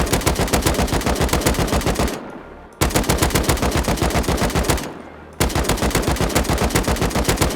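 Sustained automatic gunfire from the survival video game Rust, fired while standing still in a target practice range: loud, rapid, evenly spaced shots in three long bursts separated by two brief pauses, with no talking.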